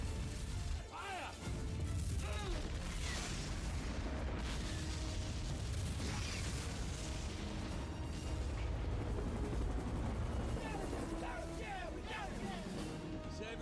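Tank cannon fire in a desert battle scene from the war film Courage Under Fire, heavy booms and crashes amid rumbling combat noise, with shouted radio commands and voices over the din.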